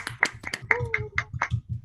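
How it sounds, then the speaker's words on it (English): Participants in an online meeting clap after unmuting, a short scattered patter of separate hand claps and snaps that is thin and uneven, as if coming from several small microphones. "give her a rousing round of applause"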